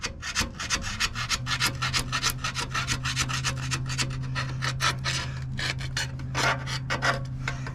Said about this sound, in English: Now I'm still going with the carbide insert in this scraper.